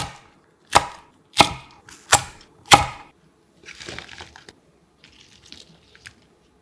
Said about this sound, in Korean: 꽈리고추 250g을 준비하고 작은 사이즈는 2등분, 큰 것은 3등분해서 담아주세요